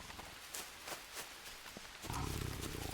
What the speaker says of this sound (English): I think there's a tiger out there.